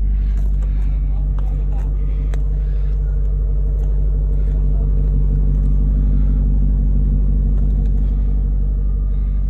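A 2000 BMW E39 M5 engine runs after a cold start, a loud, steady low rumble close to the car, with faint talk and occasional clicks over it.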